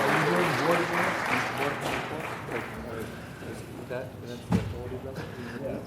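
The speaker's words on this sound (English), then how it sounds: "Let's give a round of applause for Lupe Vela and Jill Soriel from District" A round of applause at a city council meeting, clapping from a seated audience filling the room at first, then thinning and fading under background talk, with one sharp thump near the end.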